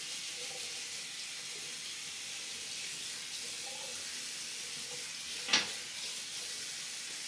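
Tap water runs steadily at a bathroom sink during a wet shave, a constant broad hiss held evenly throughout, with one brief louder splash or clink near the end.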